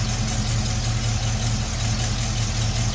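A 1974 AMC Javelin engine running steadily at a rough idle, a loud close low rumble with an even pulsing beat and no clear rev rise.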